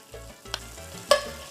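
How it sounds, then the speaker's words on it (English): Achiote oil, a mix of achiote paste and oil, hisses in a pan with a couple of brief stirring clinks over soft background music, short and close. "into a pan, I'm going to add some achote oil"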